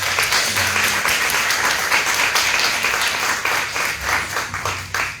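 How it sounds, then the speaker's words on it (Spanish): A church congregation claps together, a full, sustained round of applause with some distinct individual claps, fading slightly toward the end. "Démosle un aplauso a Jesucristo."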